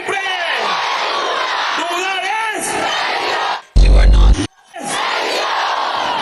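Large crowd at a political rally in Venezuela shouting and cheering loudly and continuously, voices merging into a dense roar, broken by a brief burst of loud low-pitched noise near the middle before the crowd resumes.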